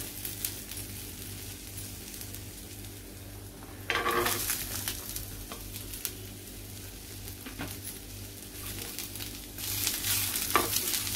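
Onion and fresh coconut sautéing in a pan for a stuffed egg masala, with a steady low sizzle, soft stirring scrapes and a few louder clatters near the start and end.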